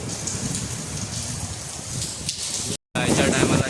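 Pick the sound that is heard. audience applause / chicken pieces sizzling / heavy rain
heavy rain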